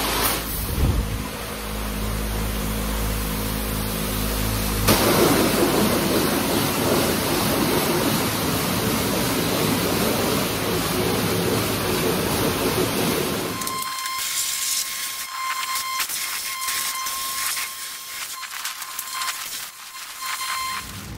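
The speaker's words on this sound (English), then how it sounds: "then I'm gonna use a power washer and clean them up as good as I can" A power washer sprays hard against ATV rims at a car wash, a loud steady hiss of water throughout, shifting midway to a sharper, harsher spray tone with a high whine above it.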